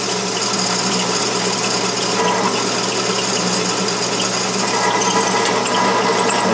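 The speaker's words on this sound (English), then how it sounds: "I'm going to take my time letting that drill bit get a good start down there." An 11/64 drill bit bores into metal on a Logan lathe, giving a steady, dense mechanical whir with fine ticking and gear rattle that runs evenly and close throughout.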